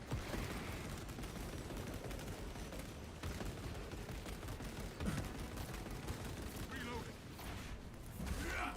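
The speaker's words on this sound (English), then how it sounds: "Releasing frag grenade." Frag grenade blast amid continuous gunfire and battle noise in the video game Space Marine 2, a dense, loud barrage of shots and impacts with a heavier burst near the end.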